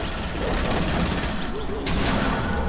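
Rapid gunfire crackles in a Fortnite match on PS4, a dense burst of shots with mechanical clatter that swells again near the end.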